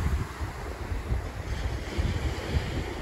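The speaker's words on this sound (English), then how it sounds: "the waves are lapping fairly gently" Gentle waves lap steadily on a sandy Prince Edward Island beach, a continuous soft wash of surf mixed with wind buffeting the microphone, fairly close and even in level throughout.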